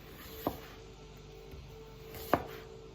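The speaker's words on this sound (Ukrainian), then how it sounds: "Тепер кожен шматочок розрізаємо і нарізаємо на Скибочки." A knife slices through apple pieces on a cutting board, two sharp isolated cuts about two seconds apart, close and clear against a quiet background with no talking.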